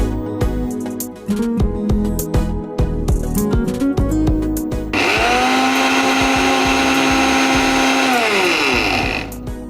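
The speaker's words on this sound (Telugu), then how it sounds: "అయితే ఇది మిక్సీ పట్టేసుకుందాము." A mixer grinder blends spinach into a paste for palak chicken curry in a home kitchen, with a loud steady motor whine running about five seconds after some clattering as the jar is set in place.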